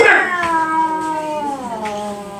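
A cat meows in a drawn-out, wavering call that slides downward, a single close, moderately loud vocalization with no talking over it.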